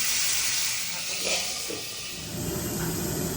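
Fish heads fry in a small amount of oil with a loud, steady hissing sizzle that surges briefly and then settles, heard close up.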